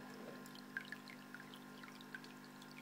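Water flowing and trickling from a Boyu EF-05 mini external canister filter into a 40-litre aquarium, a faint steady stream with small scattered drips and splashes, no talking.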